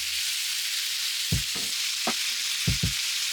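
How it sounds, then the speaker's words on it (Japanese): Beef tendon stir-frying in an unwashed frying pan, a steady broadband sizzle underneath several short knocks and scrapes of a utensil against the pan, spaced irregularly and close by, with no talking. "フライパンは洗わず、そのまま筋の方を炒めていっちゃってください。"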